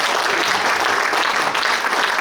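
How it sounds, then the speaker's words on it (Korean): Audience applause at a political speech event in Suncheon, a steady dense wash of clapping filling the room with no pauses, moderately loud throughout. "그래서 박수 한번 쳐주십시오."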